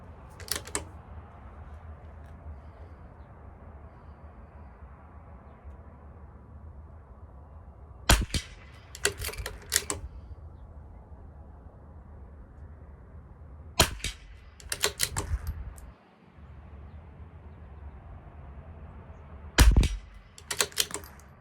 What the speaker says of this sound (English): The last group will do 10 shots.